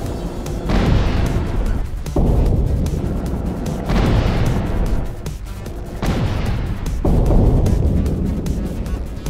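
Missiles striking a sturdy submarine in the Dave the Diver video game: three heavy booming explosions about two seconds apart, each a loud deep blast with a rumbling tail, no talk.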